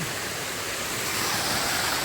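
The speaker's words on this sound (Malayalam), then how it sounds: "ചെറിയൊരു അരുവി." A small stream flowing in hilly country near Nilambur, a continuous broadband rushing of water, close and steady throughout with no talking.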